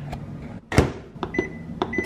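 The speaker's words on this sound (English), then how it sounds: "So I'm just gonna throw this in the microwave" A microwave oven is used to heat a buffalo chicken rice bowl: a solid thud as the door shuts, then several short, high keypad beeps in quick succession, close by.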